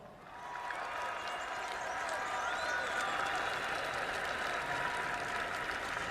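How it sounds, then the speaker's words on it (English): A large crowd in an ancient theatre in Naples claps and cheers in a steady, dense roar of applause that holds for several seconds without a break. "They cheered, they clapped, they encored."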